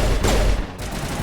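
Video game gunfire aimed at the player, a loud burst of rapid shots up close that drops off briefly, then continues as a quieter rattling volley.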